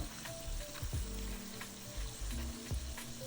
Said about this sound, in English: Just always make sure that you fry on medium heat also, so you don't burn the outside and the inside is not cooked